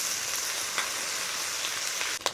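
Chopped onion, ginger garlic paste, bay leaves, dried chilli and whole spices frying in oil: a loud continuous sizzle up close, with faint stirring taps and a sharp scrape near the end.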